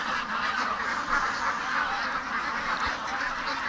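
A pen of ducks quacks and honks steadily nearby, a busy overlapping chorus of farmyard ducks with no pauses.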